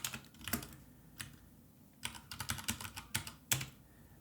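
Keystrokes on a computer keyboard as a short folder name is typed on a virtual desktop, in a few quick bursts of close, crisp clicks separated by brief pauses, with no talking.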